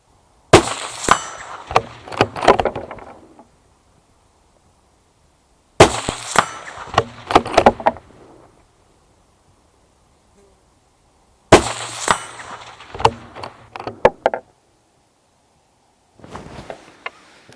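Bolt of a Steyr CL II SX Mountain .223 rifle cycled by hand, three close bursts of sharp metallic clacks and slides separated by silent gaps, then the start of a fourth.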